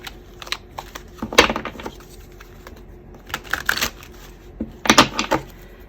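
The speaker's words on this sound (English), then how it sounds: "Now I just want to shuffle these cards a little bit better." Tarot cards are shuffled by hand in a quick series of close, crisp riffling and tapping bursts separated by short pauses, with no talking.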